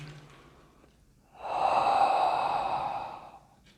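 A single long, forceful exhale, close and clear, accompanies a Southern Shaolin kung fu forward step exercise with arm movement, rising after a quiet start and fading toward the end.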